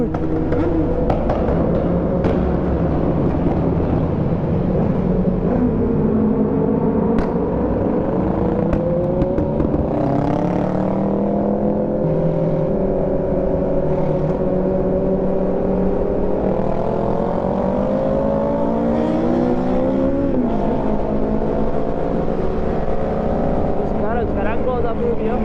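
A Kawasaki motorcycle engine drones loud and continuous while riding through the mountain curves of Serra da Anchieta, its pitch climbing and falling with throttle and gear changes, wind noise throughout.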